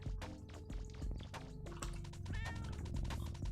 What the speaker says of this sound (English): We're just looking at the cat's tummy. And it's purring something terrible.